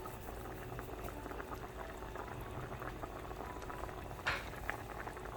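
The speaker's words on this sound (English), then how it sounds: "It was boiling." Water boils steadily in a pot on the stove before noodles go in, a dense continuous bubbling and hiss heard alone, fairly quiet, with a brief sharper pop near the end.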